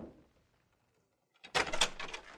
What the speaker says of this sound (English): Knock on the door, Dave.